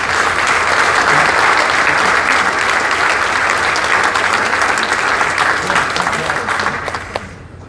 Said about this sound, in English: please join me in a round of applause for this great panel